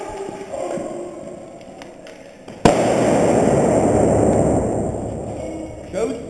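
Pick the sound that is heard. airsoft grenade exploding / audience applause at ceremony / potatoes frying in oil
airsoft grenade exploding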